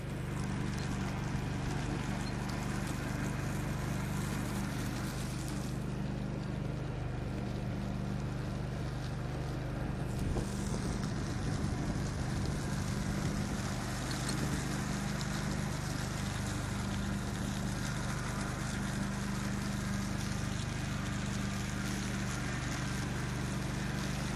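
A Stiga Park Pro 18 ride-on lawn mower cuts grass with a steady, loud engine drone and whirring blades that carries on without a break, roughened by wind buffeting the microphone.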